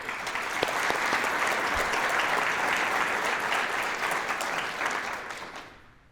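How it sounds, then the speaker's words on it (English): An audience at a chamber of commerce event applauds the event sponsors, a full, sustained round of many hands clapping that stays strong for about five seconds, then fades away. "Please join me in giving a round of applause to all of our event sponsors."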